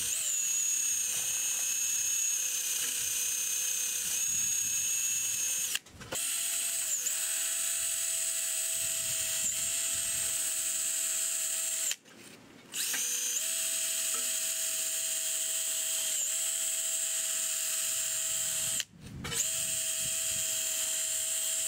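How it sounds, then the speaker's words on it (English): A wire wheel on a power tool scrubs a brake caliper and hub clean with a high, steady whine and gritty buzz. It pauses briefly three times, and the pitch dips slightly whenever pressure is applied. "To use it, you're just going to use gentle to firm pressure against it and let the wire wheel do the work."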